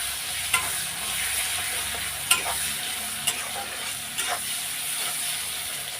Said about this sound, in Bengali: এটা আগে লাল লাল করে ভেজে নেব